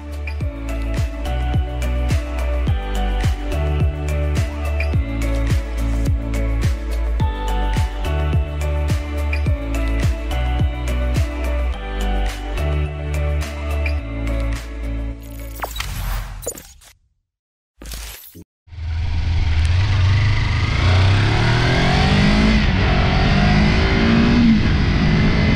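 Kawasaki Versys-X 300 adventure motorcycle with a 296 cc twin-cylinder engine, ridden on the road; a loud engine revving in rhythmic surges as it climbs through gears, cutting out briefly, then a steady roar with wind rush while riding.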